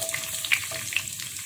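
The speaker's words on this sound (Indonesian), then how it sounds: "ini kita buat bawang gorengnya." Shallots fry in a pan for crispy fried onions, a short, close sizzle with sharp crackles and pops.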